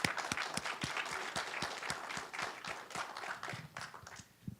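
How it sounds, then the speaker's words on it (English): Audience at a law and public policy congress gives a short round of applause for the conference organizers: scattered, fairly sparse claps with distinct individual hits, steady for a few seconds then thinning out toward the end. "So hope you all join me briefly in a round of applause for the conference organizers."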